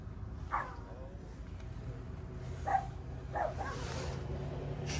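A person imitates a dog with a few short barks, spaced apart, directed at a Waymo self-driving car, over a low steady rumble of a moving vehicle.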